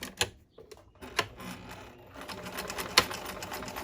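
A sewing machine runs a back stitch in a quiet, steady mechanical whir with clicking needle strokes, pausing briefly before resuming.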